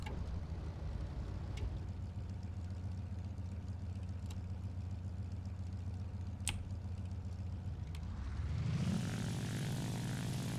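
An XP-55 Ascender aircraft engine droning in War Thunder, a steady propeller hum that holds for several seconds, then rises and shifts in pitch near the end as the throttle changes.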